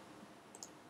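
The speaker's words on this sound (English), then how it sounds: "I'm clicking the mouse and it's not going anywhere." Computer mouse clicking during a WordPress website tutorial, two quick faint clicks close together near the middle of a quiet stretch with no talking.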